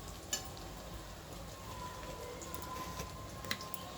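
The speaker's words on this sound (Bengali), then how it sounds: "দেখুন পেঁয়াজ আর রসুনগুলো কি সুন্দর সোনালি সোনালি মতন রং হচ্ছে" Onions and garlic sizzle quietly in a pan as they turn golden, a soft steady crackle with a couple of sharp pops.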